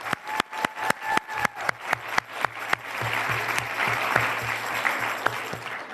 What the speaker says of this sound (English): yeah, we can clap it up.